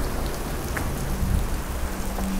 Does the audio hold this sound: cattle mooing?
no